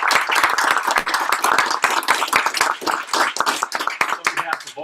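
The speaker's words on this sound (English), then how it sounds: "So how about a round of applause?" Clapping from an audience at a clean energy award ceremony, a loud burst of many hands that thins toward the end, with a voice briefly audible near the close.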